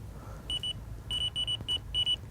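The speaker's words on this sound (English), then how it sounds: "Buzzer's off." A carp fishing bite alarm at a gravel pit sounds a run of sharp electronic beeps in short bursts, close and clear over faint background noise.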